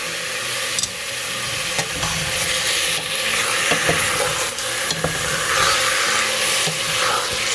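Pork loin pieces with salt and torn bay leaf stirred in a lightly oiled pan, a steady close sizzle with scraping and clinking of the spoon against the pan throughout.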